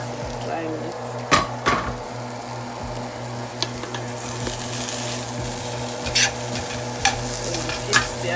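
Dry meat being stirred as it fries in a pot for abacha, a Nigerian Igbo village dish, with a steady sizzle and intermittent sharp scrapes and clinks of the stirring utensil against the pot, close by.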